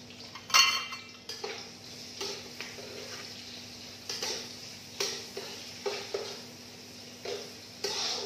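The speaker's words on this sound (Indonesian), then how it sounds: "Lalu tumis bawang putihnya, bawang putih, bawang merahnya sampai harum." Garlic and shallots sauté in a pan, a soft sizzle under repeated scraping and clinking strokes of a utensil against the pan at an even pace, close and fairly quiet.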